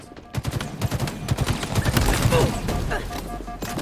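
Rapid rhythmic gunfire at the Halo Infinite shooting range, a quick series of close, punchy shots fired at practice bots, with a voice talking under it.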